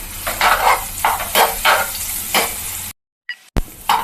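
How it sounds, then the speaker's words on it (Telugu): Soaked soya chunks (meal maker) frying in hot oil give a dense, close sizzle with pulsing stirring swells for about three seconds. The sound then cuts to silence before brief clatters return. "నానబెట్టుకున్నటువంటి మిల్మేకర్లను ఇందులో వేస్తున్నాను చూడండి ఇవి కొంచెము బ్రౌన్ కలర్ వచ్చేంత వరకు వేయించుకోవాలి"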